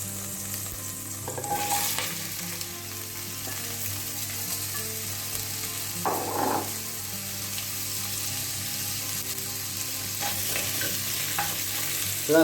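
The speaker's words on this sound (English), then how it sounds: "So that's the onion, the carrots and the garlic. Just going to kind of caramelise this a little bit" Onion, carrots and garlic fry in a pot after beef has been browned in it, giving a steady soft sizzle with occasional louder scraping stirs, fairly close and with no talking.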